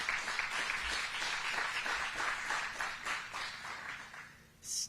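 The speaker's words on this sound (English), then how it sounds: "Let's give them another hand clap." Crowd at a groundbreaking ceremony for a women's correctional facility giving a round of hand clapping, an even, sustained patter of many hands at moderate distance, fading briefly before a voice begins.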